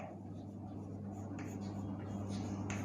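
Chalk or marker scratching across a board in a classroom, a few short scraping strokes in quick succession, faint against a steady background hum.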